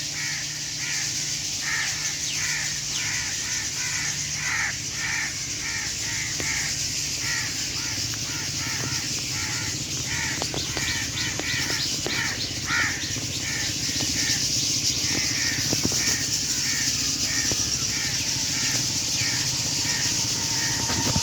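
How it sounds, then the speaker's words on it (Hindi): A dense flock of birds chattering and calling continuously, many overlapping harsh chirps and whistles, with steady background hiss throughout. "शोर के अंदाजे नाल तुम समझ गए सो काफ़ी तादाद जड़ा तिलियर मौजूद हैं।"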